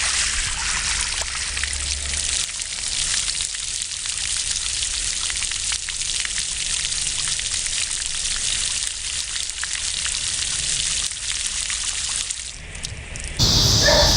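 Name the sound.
watering annual plants, water trickling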